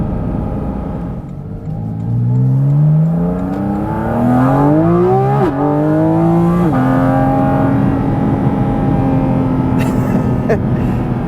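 The engine of a 2023 Porsche 718 Cayman GT4 RS revs hard from the cabin, its pitch climbing steadily through two quick upshifts and then holding a loud, steady high-rpm drone.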